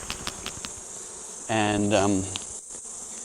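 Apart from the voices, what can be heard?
honey bees buzzing on a Flow Frame hive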